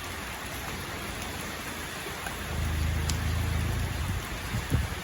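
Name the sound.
rain falling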